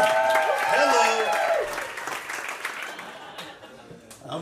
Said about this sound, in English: Come on, you gotta clap when I walk up.